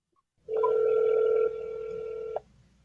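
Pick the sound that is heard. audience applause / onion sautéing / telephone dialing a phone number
telephone dialing a phone number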